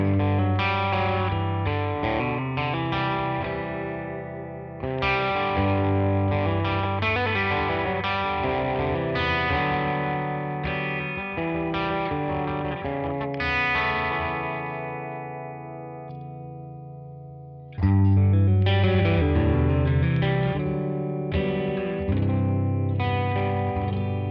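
Electric guitar played through a dense pedalboard effects chain, first without EQ and then with it, with distortion and chorus-like modulation; steady sustained chords and notes for the whole stretch, jumping louder for the second pass.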